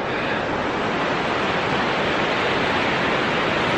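A river flows beside a campsite in Tibet as a steady, loud, unbroken broadband rush of water, constant in level and heard alone without voices.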